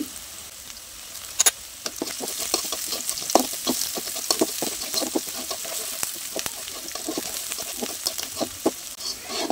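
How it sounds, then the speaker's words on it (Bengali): Crushed garlic frying in hot oil in a pan, a steady crackling sizzle with rapid popping and frequent spoon stirs scraping the pan, close and continuous, no talk. "কিছুক্ষণ সময় ভেজে নেওয়ার পর সেই অর্ধেক থেতো রসুনগুলো দিয়ে দিচ্ছি।"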